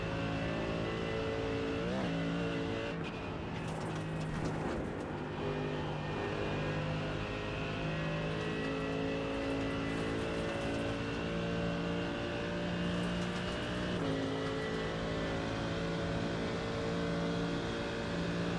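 Race car engines, a McLaren among them, in a racing video game at circuits such as Hockenheim, Spa and Monza, droning steadily and loudly throughout with shifting revs and no talk.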